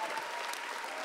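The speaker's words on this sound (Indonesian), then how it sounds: "Kasih semangat dulu semua yang penonton yuk" A studio audience at an Indonesian stand-up comedy show breaks into steady, dense applause with a hint of crowd cheering, sustained evenly through the short burst with no voice on top.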